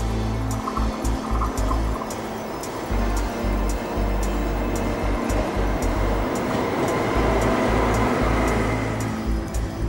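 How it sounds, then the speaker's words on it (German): Two ICE high-speed trains pass each other at Mannheim Mühlauhafen, a loud continuous rushing roar with a regular rhythmic clatter of wheels over rail joints, filling the whole stretch. "Zwei ICE treffen sich am Mannheimer Mühlauhafen."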